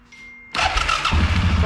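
A Suzuki King Quad ATV with a faulty voltage regulator cranks briefly and fires, its engine suddenly roaring to life and settling into a rough, close idle.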